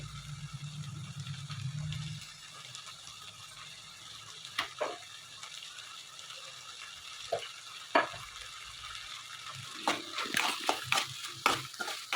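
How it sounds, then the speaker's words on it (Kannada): Vegetables and tomato sauce are stirred in a frying pan, with a soft continuous sizzle broken by scattered scraping taps of the utensil that grow denser toward the end. No one speaks. "ಈಗ ಚೆನ್ನಾಗಿ ಮಿಕ್ಸ್ ಮಾಡ್ಕೊತಾ ಇದ್ದೀನಿ ನೋಡಿ"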